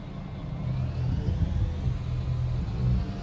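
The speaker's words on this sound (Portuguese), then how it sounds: "É um carro que tá passando com som alto aqui." A car plays loud music as it passes at night in the Bus Simulator 18 driving game, heard as a steady, dense low rumble with a thumping bass layer that lasts throughout.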